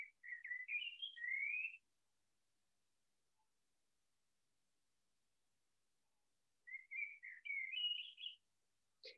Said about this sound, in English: I'm hoping that you could hear even the birds in the background here in my garden